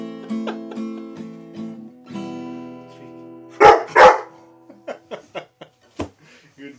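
A dog barks in a few sharp bursts outdoors after rain, the loud barks standing out between quieter sounds and a brief voice nearby.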